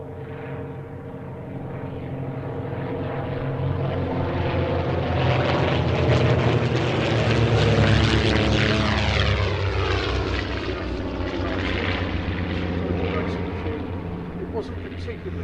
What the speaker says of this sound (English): the Comet's powered by two 230 horsepower Gypsy 6 engines